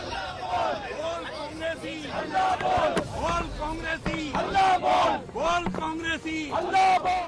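A large crowd of Congress workers shouts slogans in rhythmic bursts at a street protest, with massed voices chanting loudly and close amid general hubbub and a few sharp knocks.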